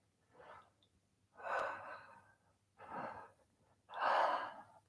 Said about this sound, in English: Breathing down into the belly, breathing down into the pelvis.